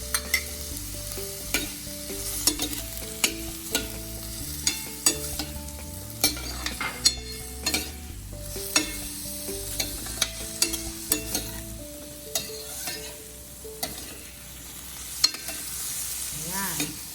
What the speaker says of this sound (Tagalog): If you would like to have some heavy cream, konti lang, about 2 tablespoons.